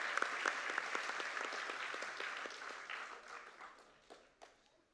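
Audience applause for teachers, counselors and school staff of partner schools at a Genesys Works Bay Area awards event: dense, steady clapping from a sizable crowd that gradually thins, with a few last scattered claps at the end.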